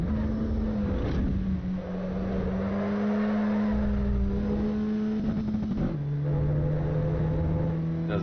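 A race car engine in the video game Assetto Corsa Evo holds high revs, its steady droning note wavering slightly before dropping sharply at a shift and then settling into a lower sustained tone.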